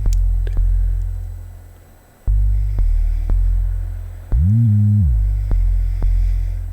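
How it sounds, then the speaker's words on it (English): A self-made subby 808 bass synthesized in Massive, deep booming sustained notes that hit in a repeating pattern, each decaying slowly, with one short pitch glide upward and back, loud and alone. "So I added an 808 bass as well, which I made myself in Massive."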